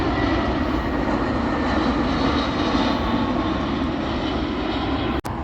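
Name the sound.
low-flying airplane on the flight path over Balboa Park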